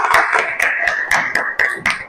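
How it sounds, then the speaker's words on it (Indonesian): A classroom group claps in short bursts, about eight sharp, even claps in quick succession, close and fairly loud, with no voices over them. "Tepuk tangan untuk kelompok visual."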